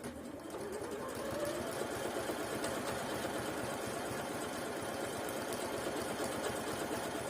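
Bernette B38 sewing machine stitching at a steady, rapid mechanical pace, a close and fairly quiet whirring hum with rhythmic needle clatter that starts after a brief pause and runs continuously.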